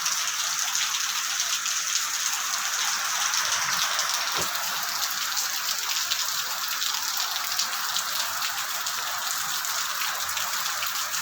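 Heavy monsoon rain in Taiwan, a dense continuous hiss of downpour pattering on surfaces, loud and close, with no talk over it.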